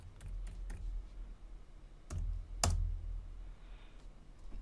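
A computer keyboard is tapped to enter a password: a handful of quiet, scattered key clicks with pauses between them, against a low background hum.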